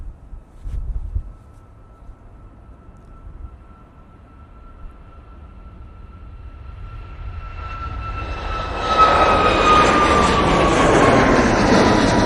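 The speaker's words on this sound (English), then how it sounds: "The 737 is going off to Cork." Boeing 737 jet departing Manchester Airport, its engine roar building steadily from a faint distant rumble into a loud, broad, sustained roar with a whining tone as it climbs away.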